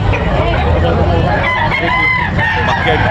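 A rooster crows loudly and drawn-out amid clucking hens and a busy background of chatter and crowd noise at a Sunday chicken market in Tabunok, Talisay, Cebu.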